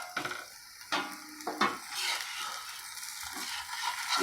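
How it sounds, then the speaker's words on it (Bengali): Mung dal batter roti sizzles and fries steadily in a pan, with occasional scraping and stirring sounds of a utensil against the surface, close and moderately quiet. "একটু ভালো করে এটাকে লাল করে একটু ভেজে নেবে"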